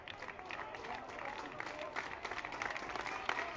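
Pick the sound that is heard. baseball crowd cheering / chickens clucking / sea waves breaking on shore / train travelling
baseball crowd cheering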